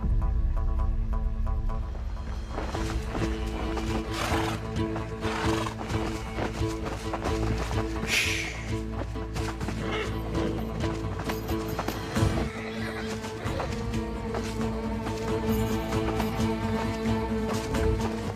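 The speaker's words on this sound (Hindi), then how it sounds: "वो रहा सुल्तान का घोड़ा।" A horse in a historical drama setting gallops with steady clip-clopping hooves, loud and continuous across the whole stretch, mixed with a neigh and dense background score and effects.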